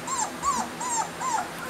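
Three-week-old puppies whimper in four short, rising high-pitched cries spaced evenly about every 0.4 seconds, close and fairly soft, with no talking.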